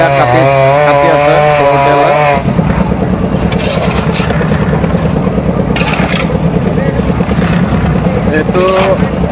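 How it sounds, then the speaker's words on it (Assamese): A chainsaw cuts up damaged tree branches in Kamalabari town on Majuli. The engine revs loudly at first, then settles into a close, continuous roar with a rough, buzzing texture. "আহত গছডাল এয়া কাটি আছে"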